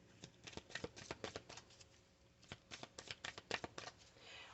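A deck of angel/oracle cards being shuffled in bursts of quick riffling flicks, close and fairly quiet, with a short pause midway before a second round of shuffling.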